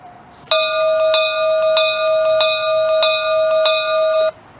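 The electronic sound-system bell of an Accucraft Ruby model locomotive, located in the tender, rings in a steady repeating pattern, about six even strikes over a sustained tone, clear and close, then stops abruptly.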